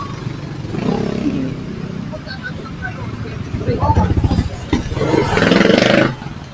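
Motorcycles crawling through heavy traffic on a road toward a jeep terminal in Los Baños, engines droning and revving nearby, one rising louder toward the end, with a voice talking over the traffic noise.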